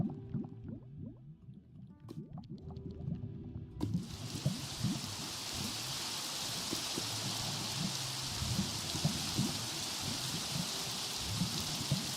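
Quiet dripping and trickling water give way to steady hissing rain in Minecraft that continues evenly, close and fairly loud, with no voices.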